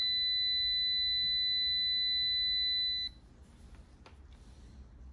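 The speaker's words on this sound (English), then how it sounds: "we'll see how loud the buzzer is on this. Get a nice buzzer and a light." A Kaiweets ST500Y digital multimeter on its continuity setting gives a loud, steady high-pitched buzzer tone for about three seconds, then cuts off to quiet room noise.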